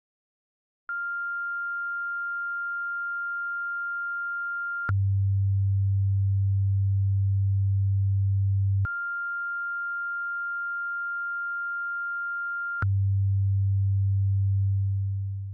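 Steady electronic test tones alternate: a clear mid-pitched sine tone, then a louder low-pitched hum, the pair repeating twice with no talking.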